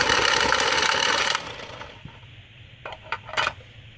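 Playing cards being shuffled by hand at a blackjack table with six decks, a dense riffling rush for over a second, then a few scattered taps and card snaps, close and without talk.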